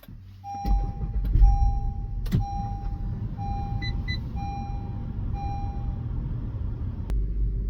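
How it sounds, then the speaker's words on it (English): A car engine turns over and settles into a low rumbling idle, while repeated dashboard warning chimes sound at a steady interval over it, close and moderately loud. "we're going to go ahead and start up the vehicle"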